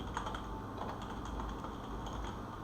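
Quiet, quick keystrokes on a computer keyboard during coding, a steady patter of light clicks at close range, with no talking.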